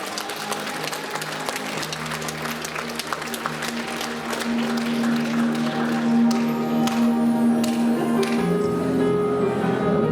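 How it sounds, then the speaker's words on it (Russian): Audience at a school graduation ceremony applauds the graduating eleventh-grade class, a steady wash of many hands clapping, with a sustained musical tone entering partway and the clapping swelling slightly louder in the second half. "Так что можно поаплодировать им."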